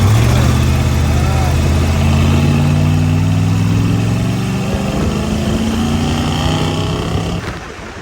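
A Baja 1000 race truck with a troubled transmission roars off the start line, its engine note climbing steadily in loud, close revving that fades slightly near the end, with some voices in the background.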